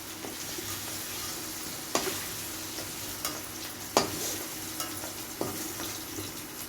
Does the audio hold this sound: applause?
no